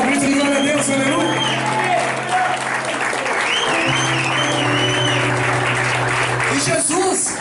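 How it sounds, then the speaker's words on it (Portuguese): Congregation at an evangelical church anniversary service clapping in praise, a continuous roar of applause mixed with voices and sustained tones, steady and loud throughout. "Pode aplaudir a Ele aí."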